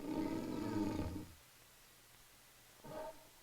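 A wolf lying in grandmother's bed snores in deep, rumbling growls: one long loud snore, a pause, then a shorter, fainter one.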